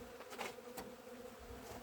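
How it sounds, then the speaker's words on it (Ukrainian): Honeybees at an apiary buzz steadily in a dense, droning swarm, close and continuous, with no voices, in cold, rainy weather. "бджоли агресивні, кусючі, бо холодно"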